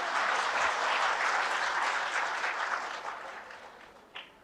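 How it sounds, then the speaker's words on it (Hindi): Audience applause at a spiritual motivational talk, a dense steady clatter of many hands clapping that holds strong for a few seconds, then thins and fades out. "एक बार अपने लिए तालियां बजाइए,"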